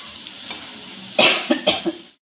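Amti curry simmering in a pot at home, with a loud scraping stir and a few sharp clinks toward the end, over a low bubbling background.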